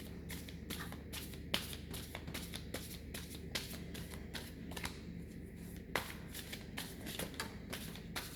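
Goddess Tarot cards being shuffled by hand, a steady run of soft riffling and flicking card sounds with occasional sharper snaps, close and alone.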